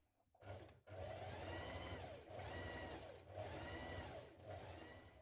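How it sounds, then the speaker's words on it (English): A sewing machine stay-stitches the upper edge of a fabric flounce 6mm from the raw edge, running in three or four close, steady bursts of rapid mechanical whirring with short pauses between. "Now you're going to stay stitch the upper edge of the flounce and the flounce back"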